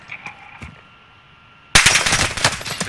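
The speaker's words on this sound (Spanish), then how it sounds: "¡Me disparan!" Rapid automatic gunfire erupts suddenly in the video game Warzone, loud and dense bursts following a quieter stretch with a few faint distant shots.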